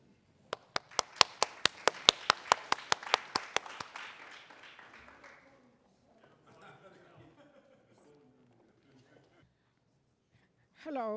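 A lone person claps steadily and close by at a conference talk, about sixteen sharp even claps that stop after four seconds, followed by quiet room sounds and faint murmuring.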